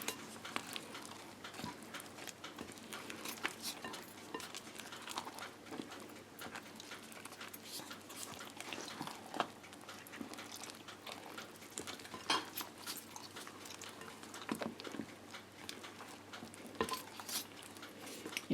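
Nuts are stirred into carrot cake batter, giving faint, continuous soft scraping and light knocks of a utensil against the bowl, with no voices.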